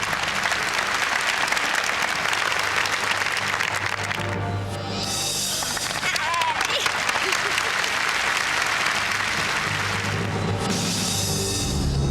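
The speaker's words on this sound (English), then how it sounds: "Give it a round of applause." A television studio audience claps steadily for several seconds, dense applause that dips briefly midway before swelling again, with some voices mixed in.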